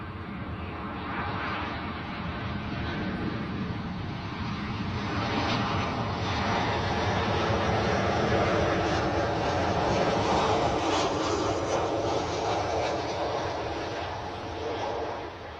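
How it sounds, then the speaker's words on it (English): A TUI Boeing 737 with winglets roars steadily on approach at Bristol Airport, a broad continuous jet engine rumble and whine that swells slightly as it passes, loud and sustained throughout. "This looks like a 737 with winglets to me rather than a Max."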